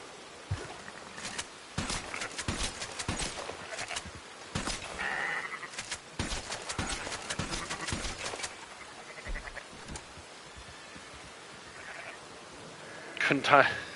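Sheep bleat repeatedly in Red Dead Online, short calls scattered through the scene alongside game sound effects and a person talking over them, with a louder burst near the end.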